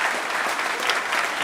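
Brief, dense applause from a packed town hall crowd in Springfield honoring a combat veteran, steady clapping throughout with no talking.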